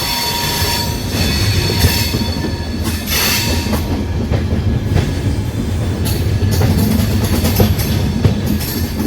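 The Jhelum Express rolls through the New Delhi car shed yard, a loud steady rumble of wheels on track with clattering joints and occasional squeals, no voices.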